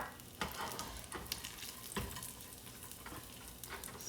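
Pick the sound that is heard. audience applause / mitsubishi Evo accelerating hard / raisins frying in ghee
raisins frying in ghee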